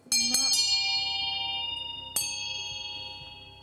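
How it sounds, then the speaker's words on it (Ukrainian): Small bells ring out brightly, a few quick strikes followed by another a moment later, their clear tones lingering and slowly fading. "ви дзвонили тими дзвониками"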